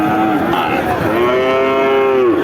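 A Friesian calf at a livestock market lets out one long, loud, close moo that starts low, swells and holds, with crowd murmur behind it.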